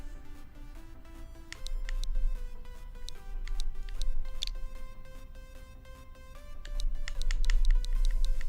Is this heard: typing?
yes